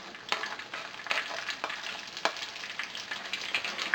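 Stuffed crab (rellenong alimasag) frying in a pan, a steady close sizzle of hot oil with irregular louder pops and spatters throughout, no voices.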